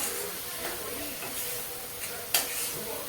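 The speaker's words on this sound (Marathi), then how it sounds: "थोडासा मसाला भाजायचा, जास्त नाही" Masala spices dry-roasting in a pan for sandge, a soft steady sizzle and hiss with light stirring scrapes and a sharper clatter near the end.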